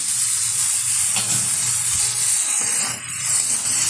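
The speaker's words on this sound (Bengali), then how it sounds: "খুব ভালোভাবে পেঁয়াজ, লঙ্কা, চিংড়ি মাছটা নেড়ে চেড়ে নেব।" Red amaranth leaves are fried and stirred in a pan with shrimp, onion and chili, producing a bright, steady sizzle with a few scraping stirs, close and alone.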